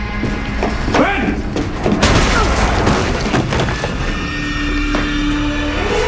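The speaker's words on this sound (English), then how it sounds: "All right, Ben, keep your elbow in, gun tight to your shoulder, and watch for the kick" A single loud gunshot booms in a tense action drama scene, surrounded by shouting voices and other thumps and clatter.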